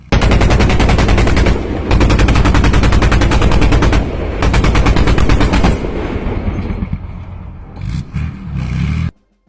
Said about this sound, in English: a Ukrainian BMP-2 engages a Russian position with 30mm 2A42 autocannon fire